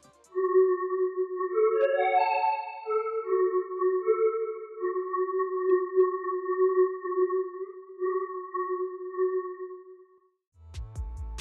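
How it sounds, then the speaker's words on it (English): A synth patch with a chorus effect from a VST plugin plays a few soft sustained notes that glide and shimmer, steady and fairly faint, ending with a short low thump. "So first I'm just going to add some chorus."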